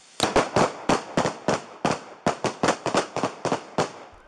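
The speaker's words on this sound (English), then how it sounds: "Shots fired." Gunshots during an active police shooting in Woodlawn, captured on body-worn camera, about sixteen sharp cracks fired in a quick, uneven volley, loud and close with no talk over them.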